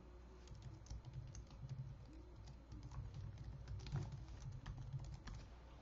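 Steady keyboard typing on a computer, a continuous run of soft, rapid key taps over low background hum, close by with no pauses long enough to break the rhythm and no voices.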